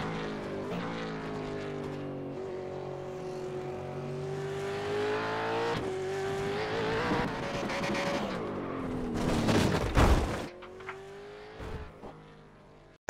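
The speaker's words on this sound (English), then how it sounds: "I am on the accelerator, as you can see, to keep that speed up and to keep the car stable." A V8 Supercar engine in iRacing accelerates around Phillip Island, its loud, steady harmonic drone rising and falling in pitch with gear changes and throttle, with a brief rough burst near the end.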